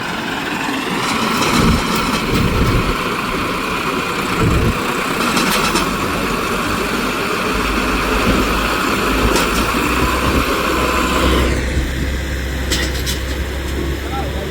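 A tractor's diesel engine rumbles steadily nearby during rice paddy season, with scattered clanks and background noise over its low drone.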